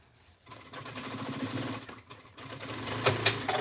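Sewing machine stitching a bag starts up after a brief quiet moment, a close, steady mechanical whir that pauses once briefly and then continues running.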